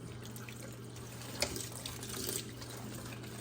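Tap water runs steadily into a kitchen sink while turkey parts are rinsed, a soft continuous hiss with a single brief splash midway, close but fairly quiet.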